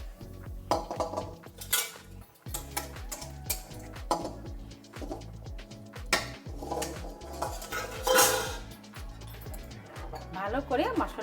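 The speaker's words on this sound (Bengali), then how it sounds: "ভালো করে মশলাটা মিলিয়ে দিচ্ছি" A spoon stirs spices into village-style Bengali khichuri in a metal pot, making repeated rhythmic clanks and scrapes against the pot under intermittent speech.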